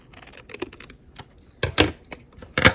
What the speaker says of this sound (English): I'm going to cut right below that brown line to begin with